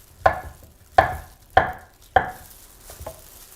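A knife roughly chops a banana in four sharp, evenly spaced strikes followed by a fainter fifth, each a crisp close thud with a short decay, and no talking.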